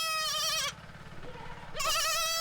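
Goats on a farm bleat loudly and close by, one wavering cry at the start and another near the end, with a quieter stretch between.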